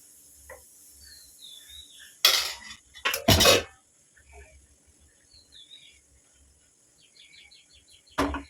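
A metal pot lid clatters twice in a kitchen while appam is being cooked, a sharp ringing clank followed by a longer rattle, with another clink near the end over faint background chirping.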